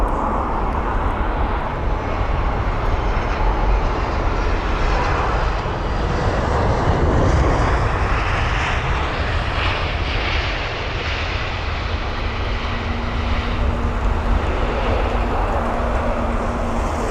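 British Airways Airbus A320 on flight BA475 at Heathrow, a loud, sustained jet engine roar that swells midway and holds steady, with a low tonal hum emerging later.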